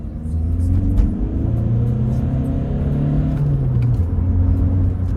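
A warm car engine runs while driving, giving a steady low rumble close by with small shifts in pitch as the revs rise and fall, and no talk over it.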